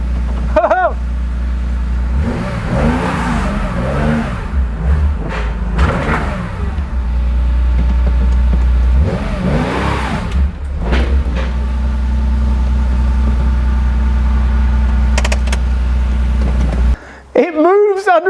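A Porsche 911 2.8 RSR project car's engine runs steadily with a low rumble and several revving surges as the car first moves under its own power, with voices heard over it.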